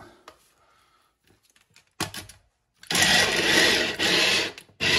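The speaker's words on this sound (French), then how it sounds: "Et on va mixer ça." A kitchen blender whirs on in loud bursts while mixing ingredients for a Senegalese mafé sauce, starting after a quiet stretch of faint handling clicks and cutting off briefly between runs.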